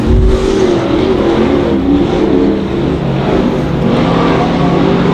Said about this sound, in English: 2-car battle for the lead.